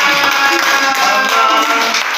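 An audience claps for a man returning to his seat after a failed attempt, a loud continuous patter of many hands with a bright, crowded tone.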